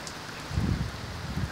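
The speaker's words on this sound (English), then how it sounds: "Oh, check out the rain." Rain falling outside during a UK late-summer shower, a soft continuous patter with a low rumbling wash, heard close and steady.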